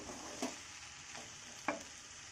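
Vegetable chowmein frying in a pan, a constant low sizzle broken by two brief scraping stirs of the spatula.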